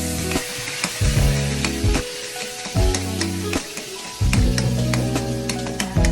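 Onions sizzling and frying in a pan while cooking bihon noodles, a steady loud hiss broken by repeated stirring scrapes and clatters, with no talk.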